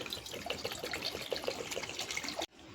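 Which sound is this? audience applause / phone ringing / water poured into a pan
water poured into a pan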